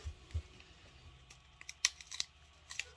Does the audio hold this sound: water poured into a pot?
no